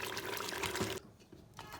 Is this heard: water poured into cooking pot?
yes